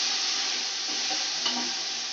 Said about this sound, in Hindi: चिकन हमारा फ्राई हो चुका है जैसा कि आप देख सकते हो